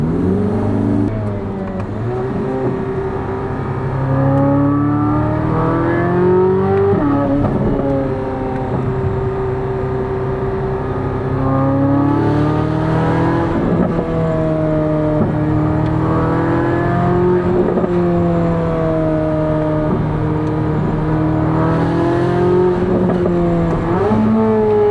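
A Chevrolet Corvette Z06 engine revs and accelerates through repeated gear changes, each pull rising in pitch, dropping at the shift, then climbing again, loud and close with no speech.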